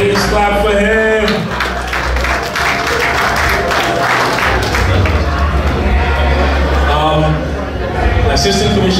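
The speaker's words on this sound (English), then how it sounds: "Please clap for him." An audience applauds at the launch of the African Whistle magazine, a loud, dense wash of clapping that swells and holds for several seconds, with a voice speaking over it.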